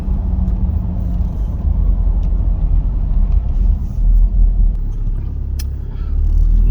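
Interior cabin noise of a vehicle cruising at 50 mph on BFG tires, a steady loud low road rumble and engine drone with little distinct tire whine, continuous throughout with no talking.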